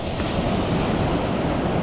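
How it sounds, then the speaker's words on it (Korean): Rough ocean waves breaking near a pier at Koh Rong island, Cambodia, a loud continuous roar of surf mixed with buffeting wind noise on the microphone. "파도가 장난 아니네"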